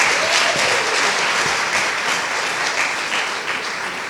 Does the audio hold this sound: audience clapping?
yes